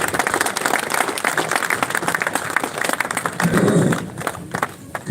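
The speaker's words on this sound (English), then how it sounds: "So let's give them a round of applause." Crowd applause at a Liverpool outdoor rally, a loud steady round of clapping from many people that tapers off toward the end.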